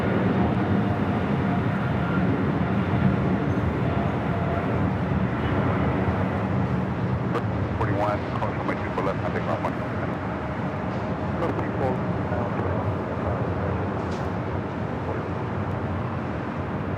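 British Airways plane taking off on runway 25 at LAX, a steady broadband engine roar rolling on at a distance with a voice talking over it.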